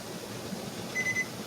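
A kitchen timer gives a brief, thin electronic beep over a low hum while strawberry jam cooks on the stove after boiling.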